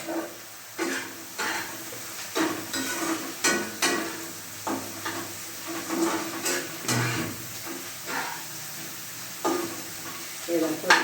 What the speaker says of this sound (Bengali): একটু লাল লাল করে ভাজা হবে পেঁয়াজটা।